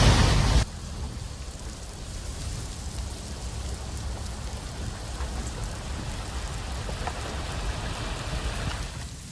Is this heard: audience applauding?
no